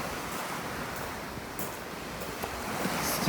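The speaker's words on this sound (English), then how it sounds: "So this is Savona Beach." Surf washes in at Savona Beach, Italy, on a summer evening, a soft continuous hiss of waves with gentle swells and some wind rumbling across the microphone, steady and moderately faint.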